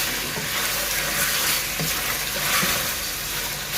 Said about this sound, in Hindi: हमारा चिकन फ्राई हो चुका है